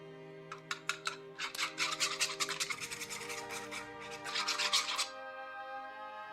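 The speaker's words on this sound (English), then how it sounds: "In a bowl, I'll crack an egg and whisk it until it becomes smooth and slightly frothy." An egg being whisked in a bowl for a fried-fish batter, a run of quick rhythmic scraping strokes that builds into a dense flurry, pauses briefly and then picks up again, close and fairly loud with no talking.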